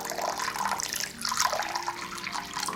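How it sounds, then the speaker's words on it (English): Water is poured into a dish in a giant African millipede enclosure until it overflows into the substrate, a close, continuous splashing trickle that varies slightly in strength with no voices. "We're gonna mist it down just like this, and we'll overflow water"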